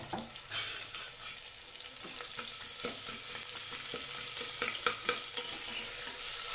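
Finely chopped onion fries and sizzles in a pan for goat head curry, with a close, steady frying hiss broken by frequent scraping stir strokes and no talking.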